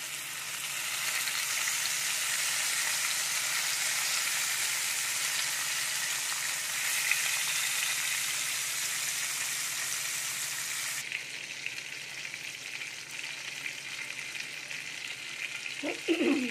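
Pabda fish frying in hot oil in a pan, a steady loud sizzle running throughout that eases slightly toward the end, with a few faint clinks near the close.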